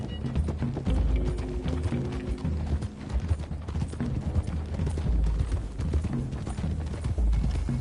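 Several horses trot together in Red Dead Redemption 2, their hooves clip-clopping in a steady, overlapping rhythm on a dirt road, loud and continuous throughout.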